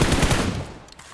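Mini 14 rifle fire in a battle royale video game, a quick burst of several sharp shots in rapid succession that trails off within a second.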